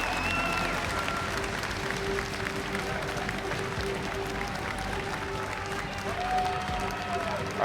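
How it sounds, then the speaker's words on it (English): A large arena audience at the 2015 League of Legends World Championship applauds the Chinese LPL teams, a steady, dense wash of clapping that holds for several seconds with faint voices mixed in. "et on applaudit encore une fois toutes ces équipes représentants de la LPL"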